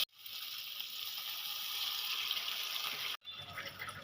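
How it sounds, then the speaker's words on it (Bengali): Water poured into fried spices in a pan for Bengali mango shol curry, a loud steady hissing sizzle that cuts off abruptly near the end and resumes more softly. "এবার আমি দিয়ে দেবো পরিমাণ মতন জল"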